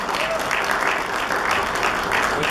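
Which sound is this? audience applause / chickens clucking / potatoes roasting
audience applause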